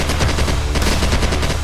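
An AK-47 fires as a sound effect, rapid automatic gunfire that rattles in a continuous, loud, close burst of overlapping shots.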